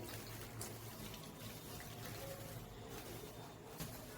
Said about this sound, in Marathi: मी ह्याच्यामध्ये पाणी टाकते।